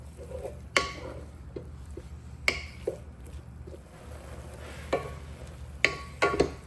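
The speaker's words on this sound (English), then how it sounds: "And we're going to start sauteing up our onions and ground turkey." Onions and ground turkey sauté in a pan with a soft, low sizzle, broken by intermittent scraping and clacking strokes from a spatula stirring the meat at close range.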